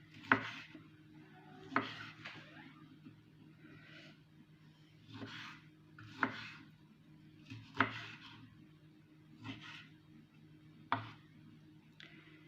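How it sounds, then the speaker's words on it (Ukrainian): A knife dices a tomato on a cutting board in sharp, evenly spaced strokes, close and clear, with a faint steady hum behind and no talking. "І наріжу ось так."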